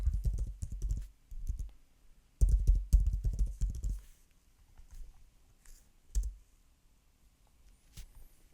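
Computer keyboard keys clicking in short bursts while a password is entered on a server setup, close and fairly quiet, with brief pauses between clusters of keystrokes and no talking.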